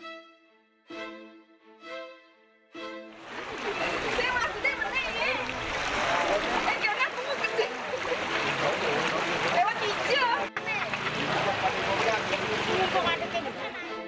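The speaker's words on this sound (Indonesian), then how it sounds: "Banjir Bali." Floodwater from the overflowing Candigara river surges through Kusamba village in Klungkung, Bali, a dense continuous rushing roar that starts after a few seconds of brief tones and stays loud to the end.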